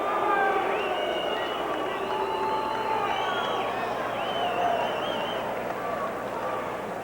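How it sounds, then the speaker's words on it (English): Boxing arena crowd reacting to an early fight stoppage, a steady dense roar of many voices with scattered shouts and whistles, continuous and fairly loud throughout. "And you can hear the reaction from the crowd."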